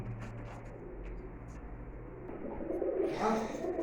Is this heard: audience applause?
no